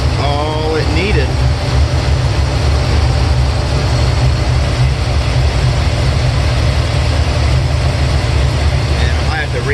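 A 1972 Chevelle engine running while warming up after a fuel regulator was fitted, a loud, steady, close low rumble that holds constant throughout with no break.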